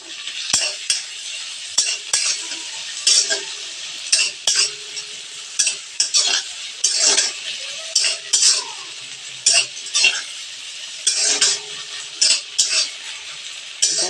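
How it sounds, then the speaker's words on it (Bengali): Ginger, garlic and green chili paste being stirred in a pan for an egg and potato kabab curry, with repeated spatula scrapes and clinks over a steady close sizzle. "কষাতে হবে যতক্ষণ অবধি না এটা নরম, একদম একটা মিহি পেস্টের মতন একটা গ্রেভি টাইপ হচ্ছে।"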